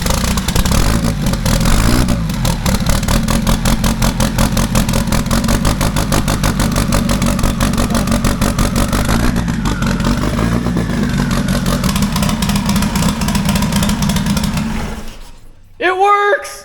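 A tractor engine cranks with dense, rapid clatter, then catches and runs rough and loud under more throttle before cutting out, and a voice briefly follows.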